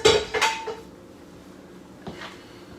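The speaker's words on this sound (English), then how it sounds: "going to give it a little stir here. Mix it all up nice" A utensil clinks and scrapes against a bowl while stirring a quesadilla vegetable mixture, a few sharp knocks at the start followed by quieter scraping and one more tap near the end.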